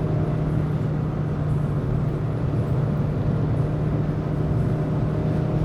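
A 2016 Suzuki Swift Sport five-door hums at speed on the German Autobahn, a steady engine drone with a constant tonal note over broad road and wind noise, loud and unbroken with no talk.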